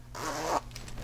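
A zipper sewn into a knitted garment is pulled in one quick, smooth stroke, a close, raspy zip lasting about half a second before it stops abruptly, with no talking.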